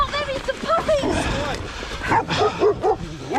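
Several dogs, including puppies, bark and yip close by in short bursts along a path, mixed with shouting and agitated talk throughout.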